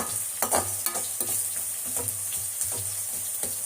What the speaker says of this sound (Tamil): எண்ணெயில் பாவக்காய் வதக்கி அள்ளி வச்சுக்கின்னு